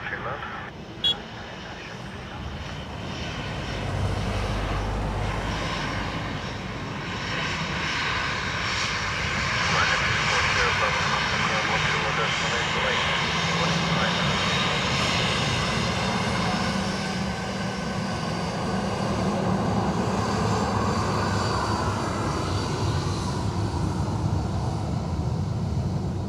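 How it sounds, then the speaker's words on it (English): A Boeing 787 Dreamliner bound from Zurich to Philadelphia roars overhead near Dublin Airport, a broad steady jet rumble that swells and holds for the whole stretch, with voices talking over it. "Another overhead now. Dreamliner. Zurich to Philadelphia again."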